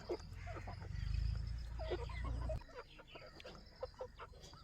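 Several fighting-breed chicks, young roosters and hens, cluck and murmur nearby over a low engine-like rumble that cuts off partway through.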